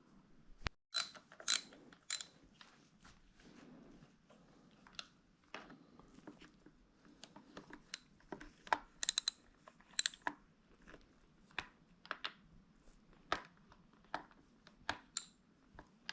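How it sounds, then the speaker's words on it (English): Bolts of 8 mm are removed from the top of a Kawasaki engine, heard as sparse, close clicks, ratchet bursts and metallic taps scattered over a quiet background, fairly faint overall. "we're going to tackle these bolts here, which are 8 millimeter, and try to take this top off"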